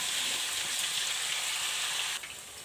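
Potato pieces frying in hot oil, a steady dense sizzle with a bright crackling hiss that runs continuously before easing slightly near the end, close and alone without voices.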